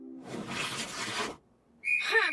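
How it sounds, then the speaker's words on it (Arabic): A tin whistle in a clay-animation children's cartoon: a breathy rush of noise comes first, then after a short gap a bright, wavering whistled tone sounds briefly and up close. "إنها صفارة القصدير"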